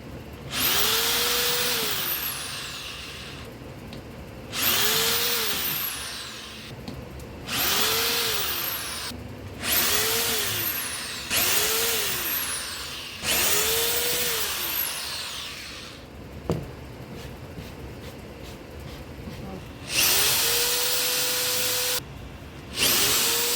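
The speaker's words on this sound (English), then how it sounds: "pre-drill and then a little more drilling into the blocks that are there" A power drill bores into wooden blocks during a truck camper cabinet build, running in about seven separate bursts, each spinning up, holding briefly and winding down, with short quiet gaps between them and no talking.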